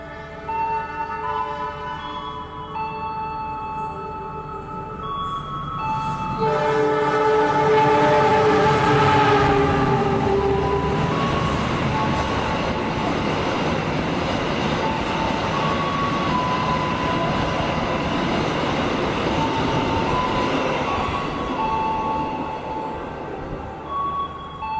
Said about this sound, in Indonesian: Barusan kereta api Argo Muria sudah melintas langsung di stasiun Jatibarang